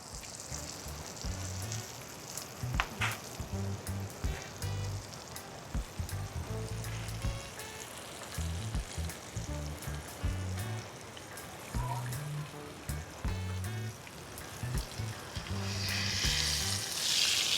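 Fish fries in a very hot pan outdoors, crackling and sizzling steadily like rain on a surface, with bursts of louder popping and a voice talking intermittently over it.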